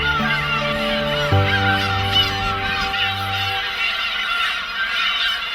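Black-tailed gulls call at their noisy Hongdo island breeding colony during mating season, loud nasal honking cries close by over a busy chorus of the flock.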